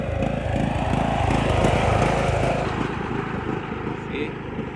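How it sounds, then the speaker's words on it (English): A tractor working outdoors at a landscaping job, its steady engine drone running throughout, fairly loud and continuous under general outdoor noise. "This guy got a tractor over here in his job."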